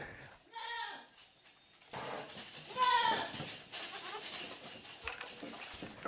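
Goats on a farm in the Brazilian backcountry bleat in a few wavering calls near the start and middle, mixed with people talking and faint clatter.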